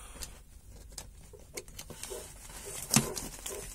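Sharp plastic buckle snap as a strap clips onto the mounting points of a motorcycle navigator bag, one distinct click standing out above faint rustling handling noise.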